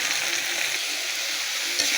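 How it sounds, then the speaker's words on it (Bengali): Red amaranth greens drop into a pan of half-fried onion and garlic, giving a steady bright sizzle and crackle of frying up close, with no talk. "এই মুহূর্তে আমি শাকটা ঢেলে দেব।"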